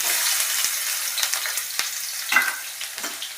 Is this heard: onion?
yes